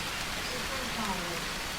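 Steady rain falls in the jungle survival game Green Hell, a continuous even hiss of drops with faint voices underneath.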